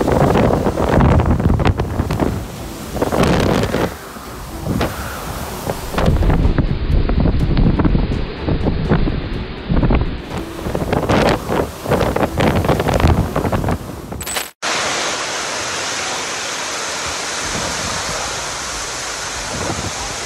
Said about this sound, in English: Japan hit by its strongest storm in 25 years.